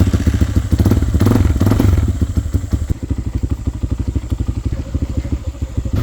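A Hawk DLX 250 motorcycle engine runs nearby, loud and clattering, first revving briefly and then settling into a fast, even idling putter of rapid firing pulses.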